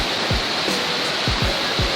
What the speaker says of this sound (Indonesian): Nah, air terjun Jembong ini berlokasi di desa Ambengan